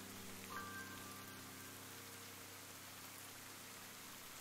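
Steady rain in a video game scene, a soft, even hiss of falling drops, quiet and continuous with no other sounds rising above it.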